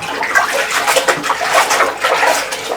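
Water splashes and washes over a dirty whiteboard being cleaned by hand, irregular wet swishes and trickles that come and go in loose bursts, close and fairly loud.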